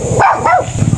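A dog gives two quick, loud barks close by, the second slightly softer, followed by brief rustling and light background noise.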